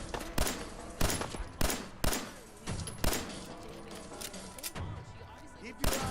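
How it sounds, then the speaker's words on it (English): Sniper gunfire in a video game: a rapid series of sharp cracking shots arrives in uneven bursts, some loud and close, with fainter impacts and game sounds between them. "I'm being sniped at."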